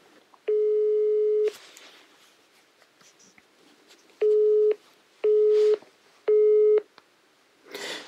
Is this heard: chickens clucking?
no